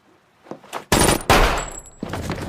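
Loud gunfire from a revenge scene in a film bursts out in two heavy blasts with a ringing tail. A softer rattle of shots comes before them, and the noise picks up again near the end.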